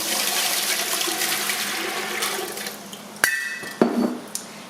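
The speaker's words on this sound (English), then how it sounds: "But for me, the hot water's fine out of my faucet." Hot water runs from a kitchen faucet for canning tomatoes, a steady rushing stream that stops partway, followed by a few sharp clinks of jars or dishes.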